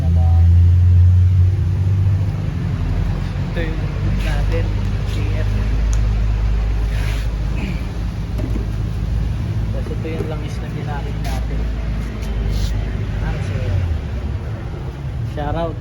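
A Toyota Corolla AE111 race car with a freshly rebuilt 4A-FE engine idles in a steady, close rumble. People talk intermittently over the engine.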